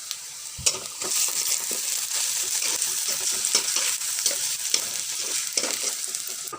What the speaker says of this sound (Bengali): পেঁয়াজটা আমি নেড়ে ছেড়ে ভেজে নেবো